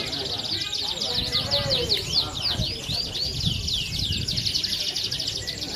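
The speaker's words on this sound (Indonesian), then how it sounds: "Itu dia lagi burungnya." A canary sings rapid, trilling warbled phrases at a bird contest, bright and continuous over a noisy crowd background with low murmuring voices underneath.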